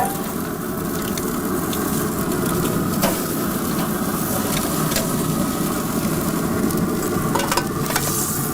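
Steak searing on an American-made Pitt grill, a dense, continuous sizzle and crackle holding steady throughout, close and loud, with occasional sharper pops and spits.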